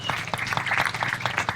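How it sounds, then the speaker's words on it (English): Crowd at an outdoor groundbreaking ceremony giving brief, loud applause, a short burst of many hands clapping close by. "give yourself a round of applause."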